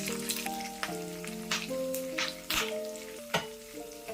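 Curry leaves and garlic crackle in hot oil as a tempering for bottle gourd dal, a soft sizzle with a few sharper pops, heard under faint background music.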